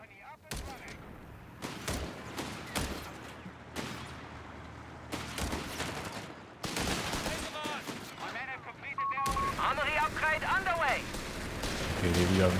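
Machine gun fire in the real-time strategy game Company of Heroes 3 during a 2v2 match, bursts of gunfire and explosions layered in a busy battle mix, intensifying toward the end.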